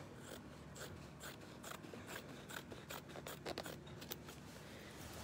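Scissors trim a large piece of fabric with a series of quick, irregular snips, close by and fairly quiet, with no talking.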